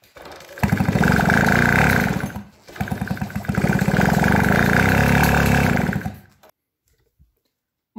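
An old Garelli moped engine, unused for 25 years, is turned over twice by pedaling in bursts of rapid chugging, each lasting a few seconds, then stops without starting, leaving near silence.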